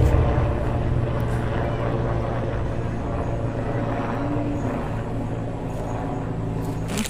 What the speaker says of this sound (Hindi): ओ वो रहा हेलीकॉप्टर जा रहा है